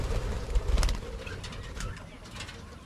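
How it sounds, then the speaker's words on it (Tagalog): Pet parakeets call and coo steadily in an aviary, close and fairly loud, with a dense stretch of calls early on that then thins into softer chatter. "Yan po yung mga ibon natin, oh. Yung ating parakets."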